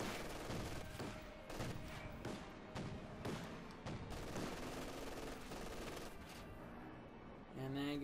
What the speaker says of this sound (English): The MG42's on it.